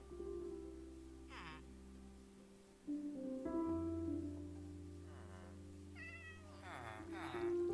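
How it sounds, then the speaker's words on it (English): Minecraft cat mobs meow repeatedly in hardcore mode, a few short in-game mews scattered over layered background music and game tones. "There's a kitty around."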